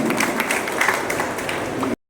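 Audience applause at a school welfare association's award ceremony: steady, dense clapping from a crowd that keeps up evenly for about two seconds and then stops abruptly.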